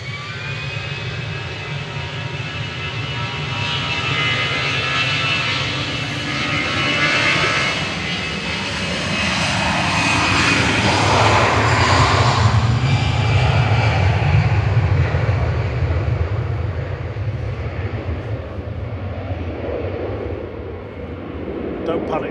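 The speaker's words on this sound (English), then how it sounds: "EasyJet to Venice, lined up and ready to go next, flight 4054, operated by IVQ A320 Classic." An EasyJet Airbus A320 Classic jet roars through its takeoff roll at Manchester Airport, a loud, broad engine rush that swells to a peak in the middle and then eases as it climbs away.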